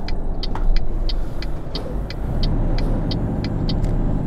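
A truck driving into Rostock in Euro Truck Simulator 2, with a steady loud engine rumble and regular ticking clicks like an indicator, no talking.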